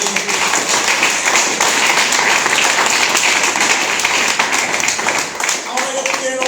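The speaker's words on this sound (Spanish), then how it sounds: "Den un aplauso a Cristo por estos amigos." Congregation applause fills a church in Medellín, Colombia: dense, steady clapping from a large crowd that runs throughout, with scattered cheers and voices mixed into the noise.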